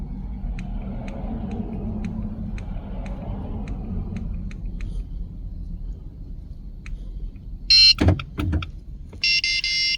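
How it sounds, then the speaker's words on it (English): Near the end, a key fob programming tool plugged into a 2017-2018 Jeep Compass gives two short bursts of electronic beeping after a quiet stretch with faint ticking. "Within a few seconds you will hear the tool beep."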